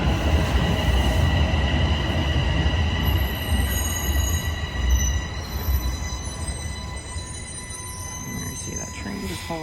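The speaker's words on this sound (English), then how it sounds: "there you see that train just pulls in." A TTC Line 1 subway train pulls into Highway 407 station with a loud rumbling roar and sustained high-pitched wheel squeal that gradually eases as it slows.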